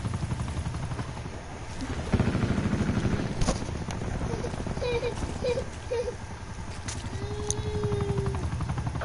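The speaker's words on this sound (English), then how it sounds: "Hostile attack chopper inbound." An attack helicopter in the video game Black Ops 4 drones with a rotor rumble amid scattered gunshots and battle noise, with faint voices underneath.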